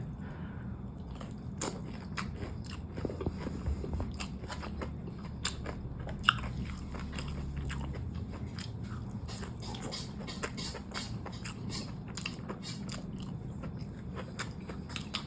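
Close, steady chewing and biting of a fried fish fillet eaten with spicy fried rice, soft crunchy bites repeating over a continuous low room hum with no talking.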